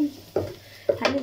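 Onions sizzling as they are sautéed in a pan, with short bursts of stirring and scraping breaking over a low frying hiss.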